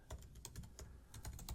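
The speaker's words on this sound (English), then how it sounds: "Why am I typing?" Quick, irregular keystrokes on a computer keyboard while writing Python pandas code, close and crisp in small bursts with brief pauses, no voices.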